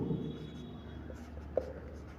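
Pen or chalk writing on a board during a physics class lesson on adiabatic compression, a faint scratching stroke with one brief tap, steady and close over a low room hum.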